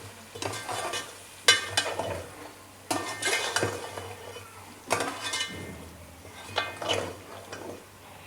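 Masala browning in a pot for beef degi korma, heard as a quiet low sizzle beneath bursts of metal spoon scraping and clinking against the pot every couple of seconds.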